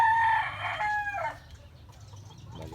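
Chickens and young gamefowl roosters in a small, clean backyard coop, with a rooster crowing loudly and close up in one long call, followed by softer clucking and farmyard rustle. No talking.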